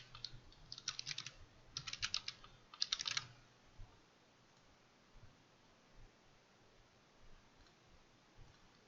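Several quick bursts of keystrokes come from a computer keyboard as code is typed, close and clear. Sparse, faint taps follow in a quiet room.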